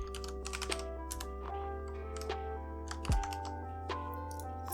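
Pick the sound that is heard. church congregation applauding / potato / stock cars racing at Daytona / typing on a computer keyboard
typing on a computer keyboard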